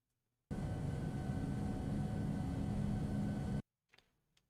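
A metallic-liveried American Airlines Boeing 757 passes overhead as a faint, steady roar lasting about three seconds, starting and stopping abruptly and followed by near silence.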